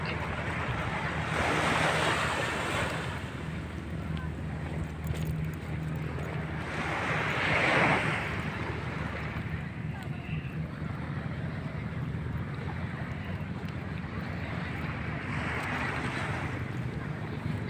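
Sea waves and wind at the shore, a continuous rushing roar with gusty wind buffeting the microphone and surges of surf swelling every few seconds; faint voices are heard at times.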